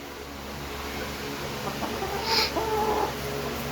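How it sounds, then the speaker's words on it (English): Young Cornish Rock chickens cluck softly in a coop, with a brief burst of fowl calls near the middle over constant background noise and hum. "They are good chickens"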